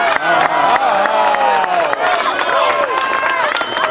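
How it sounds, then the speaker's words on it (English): A crowd at an Indian Princess fire ceremony cheers and claps for newly welcomed members, with chanted voices rising and falling over steady clapping, close and loud throughout. "Let's have a big round of applause and a big how how for our new members"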